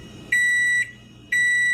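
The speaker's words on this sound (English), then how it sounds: "it's a microwave beeping." A microwave oven gives two bright, electronic beeps, each about half a second long with a short pause between, clear against a quiet background.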